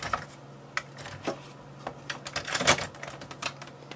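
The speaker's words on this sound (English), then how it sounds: "So let's close this case." Plastic case of an Amiga computer being shut by hand: a close, scattered run of sharp clicks and clacks, with one louder snap cluster near the end, over a quiet low hum and no talking.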